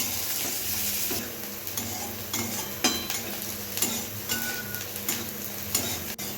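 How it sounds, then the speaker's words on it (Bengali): Chopped onion frying and stirred in a pan for a lau pata (bottle gourd leaf) bharta, a steady close sizzle broken by repeated scraping strokes of a spatula. "পেঁয়াজটাকেও আবার ভালো করে ভেজে নেব লাল লাল করে"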